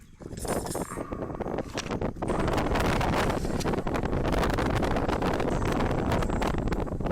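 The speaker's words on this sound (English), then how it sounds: "I'm not going to rely on the rods because it's just too darn windy out here." Strong wind buffets the microphone with a roaring, gusty rush that grows louder and steadier after the first couple of seconds.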